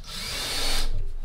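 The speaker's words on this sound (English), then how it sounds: "So I'm gonna pre-drill these." A power drill whines loudly and close as it pre-drills a screw hole in wood shelving, a steady high buzz for under a second that cuts off abruptly, leaving a faint low rumble.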